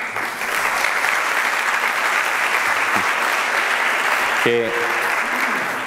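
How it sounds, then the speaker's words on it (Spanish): Steady, full applause from a conference audience at an international tourism forum in Benidorm fills the whole stretch; a brief spoken word cuts in near the end as the clapping carries on. "quiero empezar con una acción muy concreta, que es pedir un aplauso para esa señorita"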